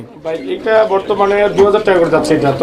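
Fancy pigeons at a farm cooing in steady, rolling bursts close by, with someone talking over the birds throughout.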